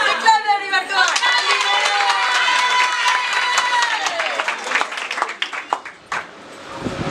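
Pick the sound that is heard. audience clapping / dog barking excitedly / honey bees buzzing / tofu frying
audience clapping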